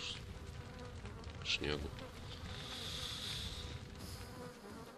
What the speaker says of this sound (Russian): Нет, просто мухи летают